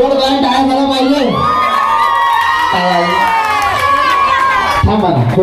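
A crowd of children and adults at a Ganpati mandal event in Mumbai cheers and shouts loudly and continuously, with whoops and raised voices over a dense, close roar.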